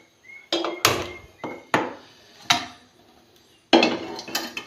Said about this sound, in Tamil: குக்கர் வச்சாச்சு.